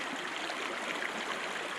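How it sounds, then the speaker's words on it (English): Cold stream water flows steadily along the Wonderland Trail, a soft, even rushing hiss with no breaks or voices. "I'm going to dip my feet and soak them in this inviting cold water"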